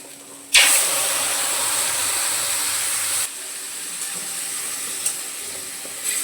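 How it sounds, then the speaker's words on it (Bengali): Potato and drumstick pieces frying with poppy seed and green chili paste in a pan, a loud steamy hiss that bursts in sharply, holds steady, then drops to a softer sizzle with a few small crackles. "পোস্তটা দেওয়ার পরেও 1 মিনিট মতন ভেজে নেব"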